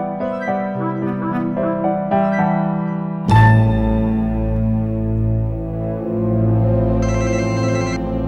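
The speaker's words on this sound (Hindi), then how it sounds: "फिर से एक बार उसका फोन ट्राई करके देख लेती हूँ।" A phone call being placed: a short melodic tone sequence, then a steady electronic ringback tone that repeats in even cycles, loud and clear with no voices.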